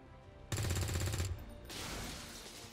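A sharp, loud burst of rapid gunfire from a soldier in the strategy game XCOM 2, starting abruptly, lasting under a second, then fading into a rougher, quieter rumble with no voices.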